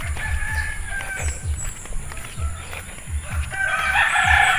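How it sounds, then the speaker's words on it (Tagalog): Chickens and ducks gathered on a farm vegetable plot: a rooster crows and hens cluck close by over a steady, busy backdrop of birdsong and insect buzz, with no talking. "nakaabang yan mga pato at manok"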